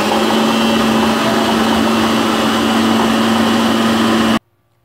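An electric food chopper whirs steadily as it chops basil and parmesan, a loud, even motor hum with a strong tonal drone that runs continuously for about four seconds before stopping abruptly.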